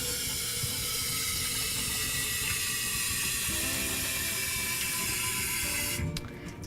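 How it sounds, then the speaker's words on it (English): Baby bottles are washed in hot soapy water, a steady rush of running water filling a sink, close and continuous, cutting off near the end. "When you wash your bottles, you want to make sure you use hot, soapy water."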